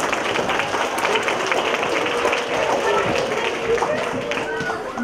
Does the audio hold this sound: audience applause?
yes